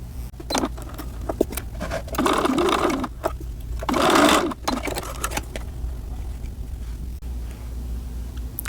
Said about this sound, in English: When sewing darts, I really like to position the end of my dart in line with my needle